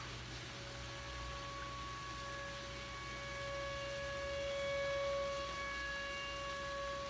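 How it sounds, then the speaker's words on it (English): A steady, distant siren wails outdoors over rain-like background hiss, holding sustained tones with a gentle swell in loudness midway. "That's definitely a siren."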